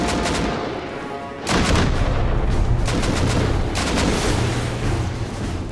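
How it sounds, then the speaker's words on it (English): Dozens of rockets pound a player's base in the video game Rust, a dense, continuous barrage of loud overlapping blasts and booms that surges in intensity partway through, with no talking. "These guys literally just used like 40 rockets to fucking pummel my base in like instantaneously."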